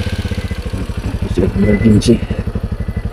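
A motorcycle engine idles close by with a steady, even low putter throughout, while a voice speaks briefly over it in the middle.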